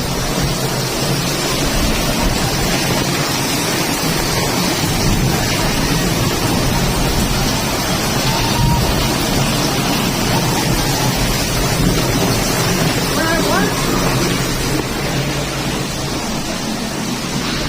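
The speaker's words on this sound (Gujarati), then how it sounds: "ધમધોકાર વરસાદ પડી રહ્યો છે." Heavy downpour during the first rain of the season in Patan, Gujarat, a loud dense continuous hiss of falling rain with wind buffeting the microphone throughout.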